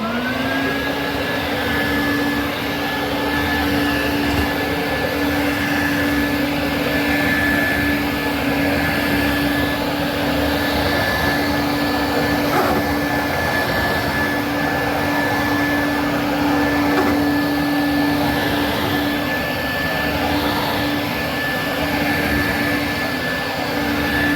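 A Quantum upright water filtration vacuum cleaner runs continuously, a loud, steady motor whine with a constant high tone and airy rush, alone and unbroken.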